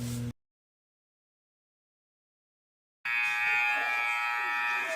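A loud, steady electronic buzz starts abruptly after a few seconds of silence and holds evenly to the end.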